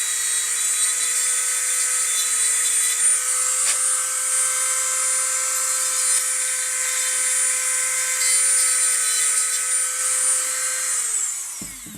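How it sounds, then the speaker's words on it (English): A carbide burr on a high-speed rotary tool grinds into a plastic pistol grip frame, a steady, piercing whine that holds for about eleven seconds before spinning down at the end. "The carbide burr on here. It cuts, you can see little chips everywhere"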